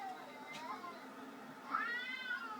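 A cat gives two meows, the second longer and louder, fairly close, over a quiet background with a voice faintly present.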